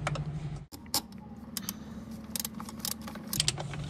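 A 12 mm socket wrench loosening the throttle body bolts on a Wagon R, a run of quick ratcheting clicks close by, coming in short bursts.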